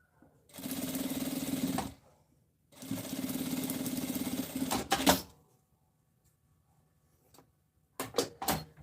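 Sewing machine stitching bias binding on a fabric box organiser, two steady rattling runs of rapid stitching about a second or two each, then short bursts near the end, close and clear with no talk.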